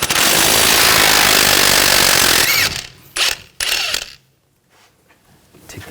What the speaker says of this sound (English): I'm going to use a 22mm wrench on the bolt, 22mm socket. Take this nut off.